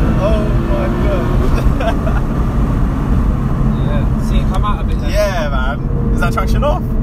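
Nissan GT-R sports car with traction control off roars steadily as it accelerates hard along the road, engine loud and close throughout while people talk over it inside the cabin.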